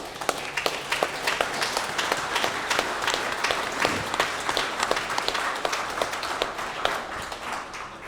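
Sustained audience applause at a 30th anniversary celebration for House of Welcome, dense overlapping claps at steady loudness filling the whole stretch, with no talk over it.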